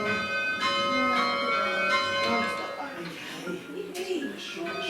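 Heavy church tower bells ring out in repeated resonant strikes with long shimmering overtones that decay slowly, fairly close and loud, while people talk nearby.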